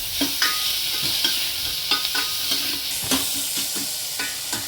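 Tomatoes sizzling in a hot pan, with a spoon stirring and scraping at intervals over the constant fry.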